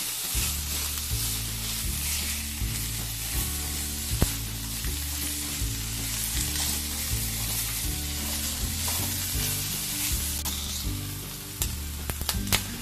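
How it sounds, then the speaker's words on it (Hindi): Capsicum and onion sauté in hot oil in a pan for a spicy Veg Kolhapuri, giving off a steady, loud, close sizzle that runs unbroken over background music. "शिमला मिर्च और जो हमारा प्याज था इसे 2-3 मिनट के लिए सौते करेंगे।"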